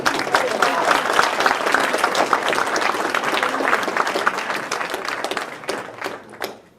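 An audience applauds for Anton and Althea at a memorial gathering, dense clapping from many people at full strength before thinning out and fading near the end, with faint voices underneath.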